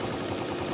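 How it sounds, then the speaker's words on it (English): Machine gun fire from a Higurashi visual novel scene, a dense, loud burst of rapid shots filling the moment without pause. "The explosion from that and the noise from Kasai's machine gun sounded at the same time"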